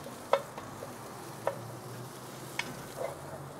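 Sliced onions sizzle in a tablespoon or two of chili oil on a grill, a soft low hiss broken by a few sparse, sharp ticks and light scrapes.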